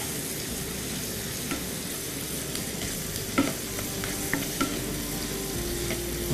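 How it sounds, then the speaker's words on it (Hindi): Onions fry to a light golden colour in a pan with a steady oil sizzle and occasional spoon stirs and scrapes, all fairly close and unbroken by any voice. "इस तरह आपने प्याज को लाइट सा गोल्डन फ्राई करना है"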